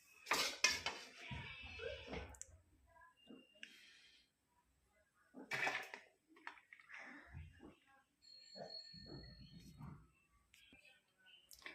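A spoon scrapes and clinks against a pot and plate while cooked mixed vegetable kadai pulao is served onto a plate, in short bursts of metallic clatter separated by quiet pauses, close and fairly soft.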